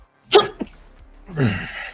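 A single sharp sneeze rings out close by, followed after a short pause by a brief spoken remark.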